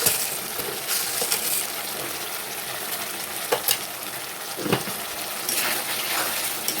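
Paneer masala spices sizzle and fry steadily in a pan, with occasional stirring clinks and scrapes over the continuous crackle.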